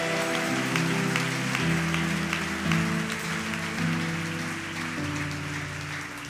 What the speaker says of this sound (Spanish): Alguien puede dar un aplauso fuerte al Señor.